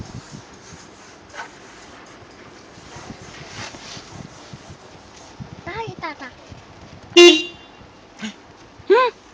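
A single short car horn beep sounds near the end, followed by a second brief toot, amid background chatter and a voice during a car wash.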